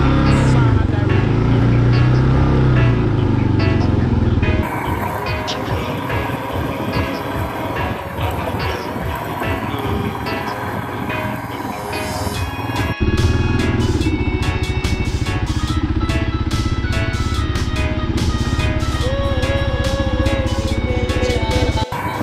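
A 2022 Royal Enfield Himalayan motorcycle rides on a dirt trail, its engine droning loudly and continuously, with rough rumble and wind buffeting that shift partway through the ride.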